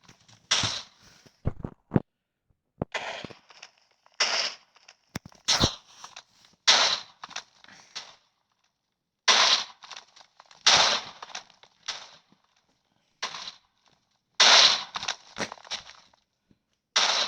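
Repeated sharp bursts and blasts erupt in irregular clusters, separated by short silences, loud and punchy like game explosions.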